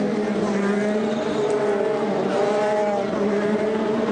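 IndyCar race cars at the Indianapolis 500 roar through steadily, a continuous loud engine drone with shifting harmonic whine as cars pass one after another, with no clear gap or break.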